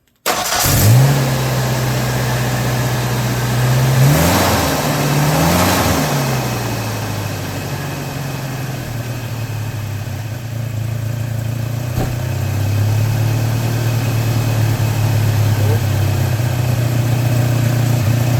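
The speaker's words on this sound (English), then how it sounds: "She's a little rough, but that's not bad because it takes a second once you start it for it to get used to the new sensor." A Mazda B2300 pickup engine cranks and catches after a mass airflow sensor replacement, then settles into a steady, slightly rough idle close by, with two brief throttle blips early on and a small rise in idle speed near the end.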